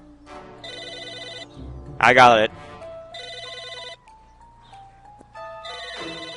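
A ringing phone from the Psychonauts video game trills in repeated electronic bursts with a short melodic jingle, loud and close, while someone briefly talks over it.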